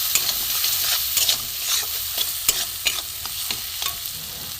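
A spice paste with a little salt fries in a pan, a close, constant sizzle broken by repeated scraping strokes of a spoon or spatula stirring it.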